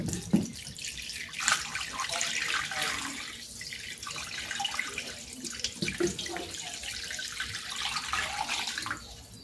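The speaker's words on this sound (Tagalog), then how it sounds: "Lagyan natin ng tubig." Water runs steadily from a tap into a pot holding chicken breast, a continuous splashing rush with gurgling changes in tone as it fills, no talking.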